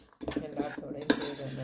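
A spoon clinks and scrapes against a metal vessel as Jaffna-style tin fish sambal is mixed with tamarind and salt, a short burst of close metallic stirring taps, no talk.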